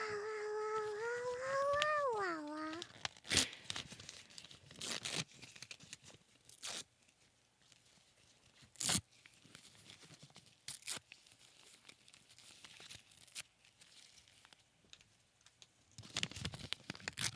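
Wrapping paper is torn and crumpled in sharp, separate bursts of ripping and crinkling with quiet pauses between them, close and crisp, after a cat's drawn-out meow at the start.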